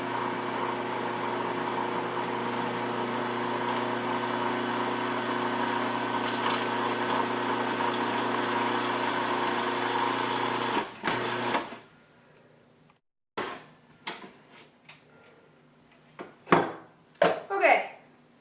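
Steady motorized whir of a mixer blending caramel with tapioca maltodextrin for about eleven seconds, then stopping, followed by scattered scraping and clinking sounds with some talk.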